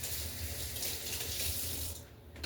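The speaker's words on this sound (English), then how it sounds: "let me rinse my hands off real quick" Tap water runs steadily as hands are rinsed under a kitchen faucet during turkey burger prep, a close, continuous splashing flow that cuts off just before the end.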